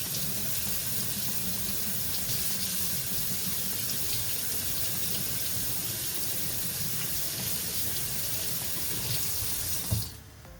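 Tap water runs in a steady, loud stream at a kitchen sink while a utensil is rinsed during sourdough bagel making, then cuts off with a brief clunk near the end.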